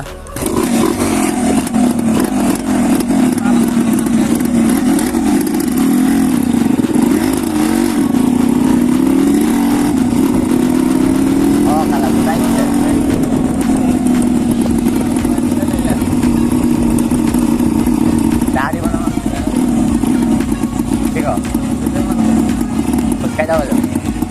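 A motorcycle engine runs steadily and loudly throughout, a continuous droning hum near the listener with slight shifts in pitch, while people talk over it.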